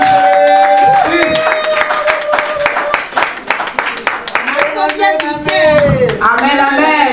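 Wedding guests at a church ceremony clapping rhythmically and cheering amid singing voices, a loud mix of hand claps and joyful calls.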